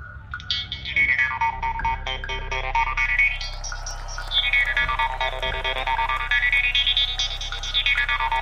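A twangy mouth harp plays alone, the player whispering through it to make a whispery, synth-like filtered sweep rising and falling, loud and close.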